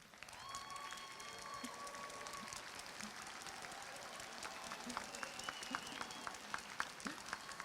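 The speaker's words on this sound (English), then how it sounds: "please rise and let us applaud your commitment of excellence" A graduation commencement audience applauds, the clapping forming a steady, dense wash that runs the whole length, fairly faint and distant.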